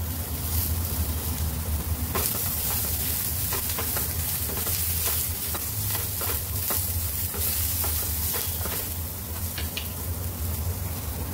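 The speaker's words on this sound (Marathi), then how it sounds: "आलं लसूण टाकूया, 2 मिरच्या टाकून घेऊया" Ginger, garlic and green chillies fry in hot oil in a pan while cooking a spicy bitter gourd dish, giving a loud, continuous close sizzle with repeated stirring scrapes throughout.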